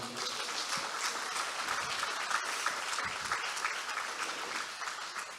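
A church congregation applauds during a sermon, a thick, continuous wash of many hands clapping at an even level throughout, with no talk over it.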